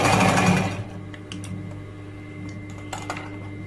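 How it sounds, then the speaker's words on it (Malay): A sewing machine stitches a shirt in a fast, loud whirring run that stops within the first second, followed by faint clicks and handling noises. "Kita jahit sikit eh, dalam 1 inci pun boleh"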